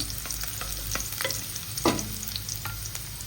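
Onion frying in a pan, a soft steady sizzle with occasional light stirring taps and scrapes, close and fairly quiet.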